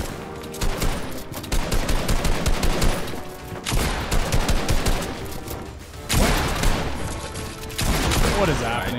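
Rapid bursts of gunfire in a Fortnite battle during a Hype Cup match, dense overlapping volleys with short pauses, loud and continuous, with voices talking over the shooting.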